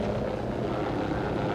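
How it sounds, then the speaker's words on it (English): A National Guard helicopter flies over a snowbound city in 1978, its dense, low rotor and engine rumble steady and fairly loud throughout. "National Guard helicopters have been rushed into service in extreme emergency cases"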